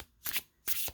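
Two quick bursts of tarot cards being riffled and shuffled, close and crisp, separated by a brief pause.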